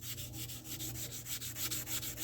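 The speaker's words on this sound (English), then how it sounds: "the 800, we're going to wet sand it" Plastic is wet-sanded by hand with 800-grit sandpaper in quick, regular back-and-forth strokes, a close, soft rasping rhythm with no talking.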